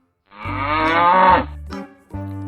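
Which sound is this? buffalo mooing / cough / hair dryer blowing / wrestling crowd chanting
buffalo mooing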